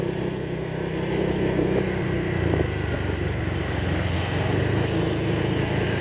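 A worn motorcycle engine runs steadily at idle, a continuous droning rumble with a faint mechanical rattle from a damaged front bearing, rear drive or wheel, with no one speaking.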